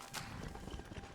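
Horse hooves clip-clop in steady rhythm through Skyrim, the Elder Scrolls V game world, moderately close over a busy background of ambient noise.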